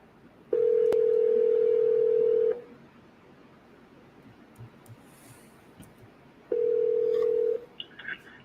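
A steady telephone dial tone on an office line sounds for about two seconds, breaks off into quiet, then returns for about a second.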